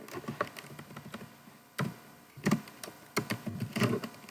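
Someone types on a computer keyboard at a command prompt, producing scattered close key taps that build into several louder clusters of clicks with short gaps between.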